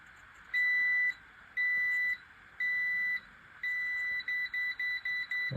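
A household multimeter bought from Temu beeps in four evenly spaced tones, then a faster run of short chirps, each beep high, clear and electronic against a quiet background.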